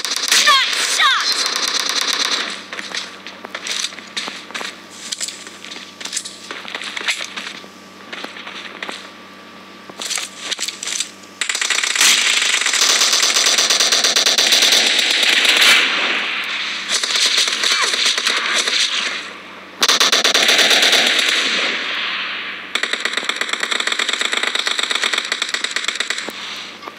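Bursts of rapid gunfire from a team deathmatch round of PUBG Mobile in a warehouse map, crackling shots in dense clusters through most of the stretch, loud and close, with a game announcer's voice mixed in.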